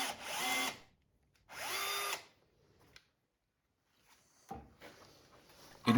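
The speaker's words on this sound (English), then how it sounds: "an old corded drill from my grandfather's workshop proved far more useful than the tools I had available" An old corded power drill bores pilot holes into heavy timber for raised garden beds, two sustained whining bursts close up, followed by quieter clicks and scraping of wood.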